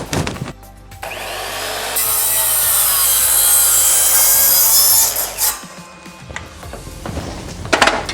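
Hand or mitre saw cutting through a wooden baseboard at a 45-degree angle, a loud, steady rasping stroke that builds, holds for several seconds, then trails off as the cut finishes.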